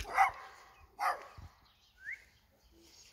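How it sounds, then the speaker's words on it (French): Small dogs bark outdoors near a pasture fence, two sharp yapping barks about a second apart followed by a fainter yip, fairly close but quiet overall. "C'est des petits chiens"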